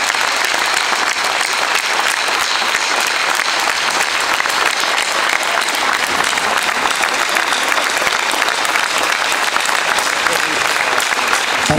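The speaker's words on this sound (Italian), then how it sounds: "un applauso forte." Loud, dense applause from a large crowd at a Lega Nord national festival rally in Borgosesia, Piedmont, a continuous roar of clapping that holds steady for about twelve seconds.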